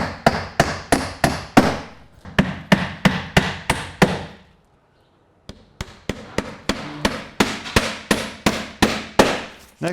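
A pneumatic or hammer-driven nail gun fires in quick regular bursts, roughly twenty sharp, close, loud shots with a short pause midway, fastening a wooden mullion cover trim piece.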